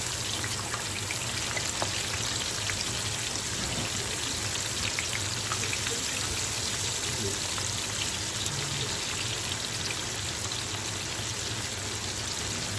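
Catfish fries hard in hot oil, a dense, steady crackling sizzle that stays loud and unbroken throughout.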